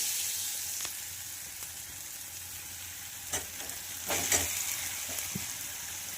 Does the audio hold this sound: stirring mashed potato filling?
yes